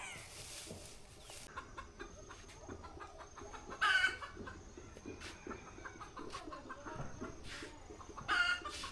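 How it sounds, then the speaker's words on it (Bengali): Village chickens clucking faintly at a distance, with a few brief louder calls rising over a steady outdoor background. "এই ছাগল আর মুরগি"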